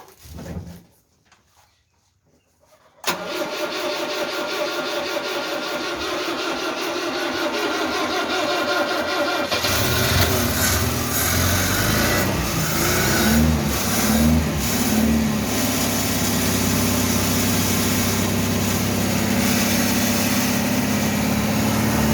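After a few quiet seconds with faint knocks, a 1974 Citroën DS21 that sat unused for six years bursts into life and runs loudly and roughly nearby. It then revs harder and rises in pitch before holding a strong, uneven idle.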